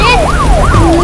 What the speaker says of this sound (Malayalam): ഓ അതാണ് പോലീസ് വണ്ടി വരുന്നു